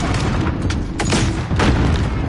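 Airstrike blasts in a first-person shooter boom loudly and close, with several heavy, rumbling impacts landing in quick succession over a dense background of gunfire.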